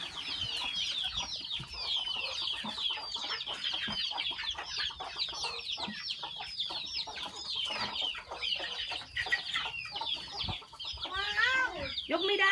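A flock of ducks on a farm keeping up a dense, continuous chorus of quacking and clucking calls nearby, with louder individual calls near the end.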